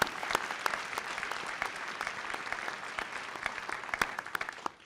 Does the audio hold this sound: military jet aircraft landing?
no